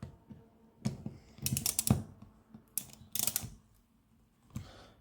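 Vaporiser gasket bolts on an LPG car system being tightened with a torque tool, several quick ratcheting clicks in short clusters, close by, with quiet pauses between turns.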